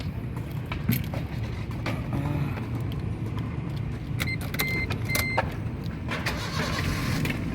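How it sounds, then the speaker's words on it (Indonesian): A 2013 Suzuki Splash 1.2 GL manual hatchback is started from inside the cabin, with clicks and clunks over a steady engine rumble that settles into a continuous idle throughout. "Coba kita nyalakan dulu mesinnya ya"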